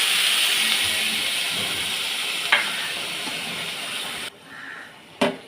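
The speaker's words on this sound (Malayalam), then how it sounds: "മൂത്ത് നമുക്ക് തിളച്ച വെള്ളം ഒഴിക്കാം" Boiling water poured into a hot frying pan sets off a loud, continuous hiss and sizzle that cuts off abruptly near the end, followed by a brief clatter.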